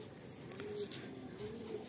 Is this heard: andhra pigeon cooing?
yes